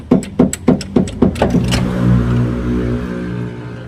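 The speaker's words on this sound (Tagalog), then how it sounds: "Pag nasira ang clutch pulley kasi nito, maingay ito." Toyota Commuter van engine with a faulty, noisy clutch pulley: a series of rhythmic mechanical knocks and whirs gives way to a steady, loud low running drone, close up.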